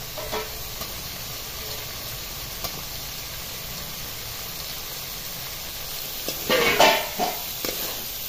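Boiled drumstick pods stirred into a sizzling black spice masala give a soft, steady frying hiss, with light scrapes and a louder clatter of stirring near the end.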